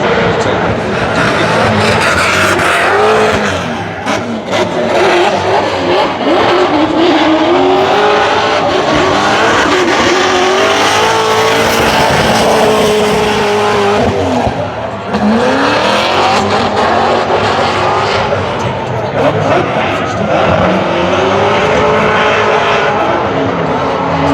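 A race car on a qualifying run at Kern County Raceway, engine roaring loud and continuous for the whole stretch, with rising and falling revs as it works around the track and brief dips between passes.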